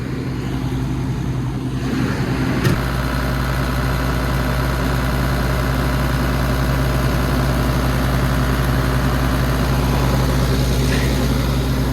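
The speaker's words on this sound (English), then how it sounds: "I'll put a bit of revs on it. We'll give it a little bit of revs." Digger diesel engine idling at about 1200 RPM with a steady, even low throb and mechanical hum, close and continuous after a brief shift early on, with no talking.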